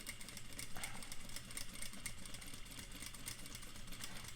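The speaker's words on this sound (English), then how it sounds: "so that I can sew that straight line right into where my marking was" A sewing machine runs steadily, stitching a straight line along a lapped zipper with a continuous low, even whir that stays unbroken throughout.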